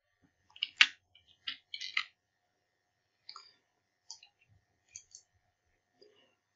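Keys on a computer keyboard clatter in short, quiet bursts, a quick cluster of clicks followed by sparse, isolated taps with silence between them and no speech.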